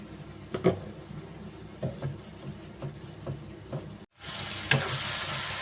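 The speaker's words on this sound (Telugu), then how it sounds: "టమోటాలు ఆల్మోస్ట్ అయితే వేగిపోయాయి" Tomatoes frying in a pan for a tamarind-leaf small fish curry give a steady soft sizzle, broken by a few clinks and stirring sounds, with a brief gap before the frying hiss returns louder near the end.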